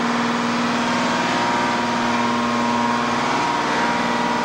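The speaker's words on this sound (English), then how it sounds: "That's the engine for the tow winch right there." On a tugboat, the engine that drives the tow winch and emergency steering runs at a steady idle, a close, even mechanical drone with a constant hum and no pauses.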